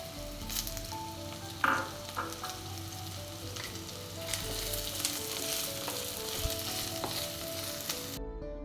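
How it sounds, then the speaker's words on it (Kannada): Chopped onions hitting hot oil in a pan for a coastal-style country chicken curry, a continuous close sizzle and crackle with a brief sharper burst near the start, no voices. "ಸೊ ನಾನಿಲ್ಲಿ ಈರುಳ್ಳಿಯನ್ನು ಆ್ಯಡ್ ಮಾಡ್ತಾ ಇದ್ದೇನೆ"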